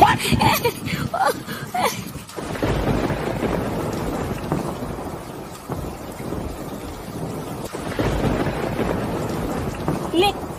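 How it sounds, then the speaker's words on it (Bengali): Steady rain pours down loudly outdoors, a broad rushing hiss with gusty wind rumbling against the microphone and a brief voice at the start. "বৃষ্টি শুরু হলো তো"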